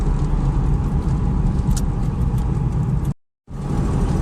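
A used car driving on the road, heard from inside as a steady low engine and tire rumble that cuts out briefly near the end before resuming.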